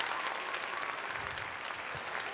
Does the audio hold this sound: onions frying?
no